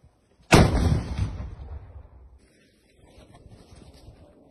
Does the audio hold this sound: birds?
no